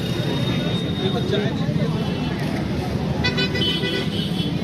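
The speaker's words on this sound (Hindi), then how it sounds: "ट्रैफिक भी चल रहा है माल रोड के ऊपर" Traffic rumbles along Mall Road in Nainital at night, a steady dense roar of passing vehicles with a brief burst of car horn toots near the end, and voices mixed into the street noise.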